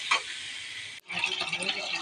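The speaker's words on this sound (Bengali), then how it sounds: "ভাজিটা নেড়ে চেড়ে নিচ্ছি।" Vegetable bhaji being stirred in a pan, a soft hiss of frying with scraping stir sounds, broken by a brief pause midway before the frying and stirring resume, slightly louder.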